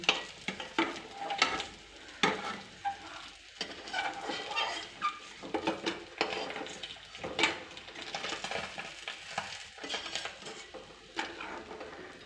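Fish fries in a pan, sizzling softly and continuously in oil with intermittent stirring and scraping, while a voice talks over the cooking.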